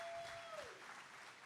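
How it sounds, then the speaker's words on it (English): A quiet, steady patter of applause from a crowd at a Rock N Brews restaurant football coach's show, thanking Dave, with a faint gliding tone at the start. "Give him a round of applause"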